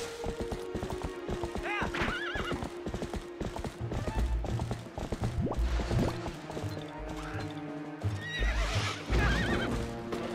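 A horse in Zelda: Twilight Princess clops along at a gallop while neighing and whinnying loudly several times, with game music and effects underneath.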